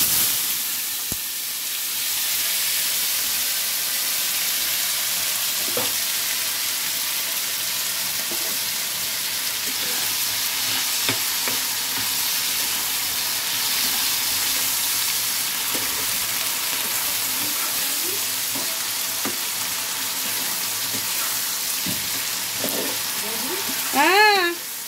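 Potatoes fry in hot oil with turmeric, giving a steady, close sizzle across the whole stretch with scattered clinks and scrapes of stirring, and a brief, louder burst of activity near the end.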